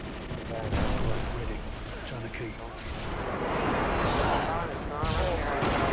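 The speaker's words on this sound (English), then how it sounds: "I got him with my nade." Grenade blast in Modern Warfare 2 on the Underpass map, a loud burst among ongoing gunfire and game noise, with a voice talking over the action.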